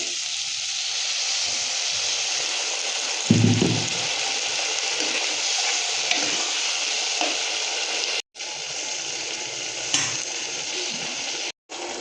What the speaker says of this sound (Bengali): এবার আমি সামান্য একটু জল দিয়ে দেবো।